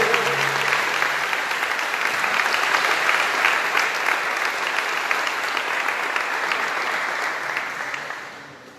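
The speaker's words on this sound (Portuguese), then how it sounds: "Aleluia, palmas bem forte." A church congregation claps loudly and steadily in a dense, sustained wave of applause that fades slightly at the end.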